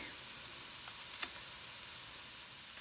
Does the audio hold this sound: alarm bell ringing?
no